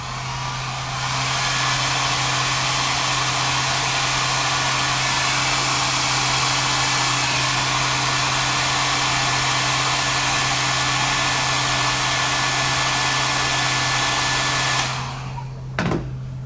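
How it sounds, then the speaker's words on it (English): Hair dryer blowing hot air onto a wig for back-combed styling, a steady loud whir with a constant hum that runs nearly fifteen seconds before cutting off abruptly. "heat it up with your hair dryer."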